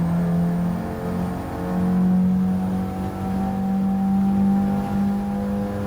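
Toyota Celica GT-FOUR engine in Gran Turismo 7 at Suzuka, a steady loud drone holding high revs with rising pitch and a brief dip around a gear change, close and continuous without any talk.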